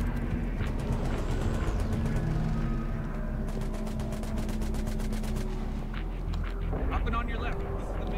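Shotgun fire in the game Mass Effect 3, set at a barricade on Garrus's home world, with bursts of gunfire and a dense, steady battle din of shots and effects running throughout.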